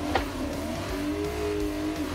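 A BMW E38 740i engine revs while drifting, its note climbing and sweeping in pitch with a faint tire squeal, loud and close throughout with no talking.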